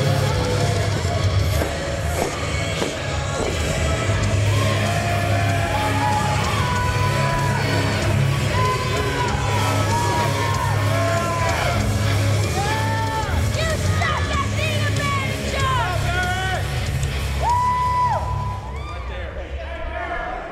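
A wrestling crowd cheers steadily throughout, a dense roar of many voices with scattered whoops and shouts, loud and continuous with no break.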